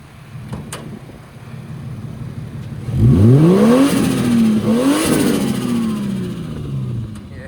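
A turbocharged Audi TT RS fitted with an IE downpipe exhaust revs hard, swelling from a low idle into a loud, close rising roar that sweeps up and down and then settles back toward idle.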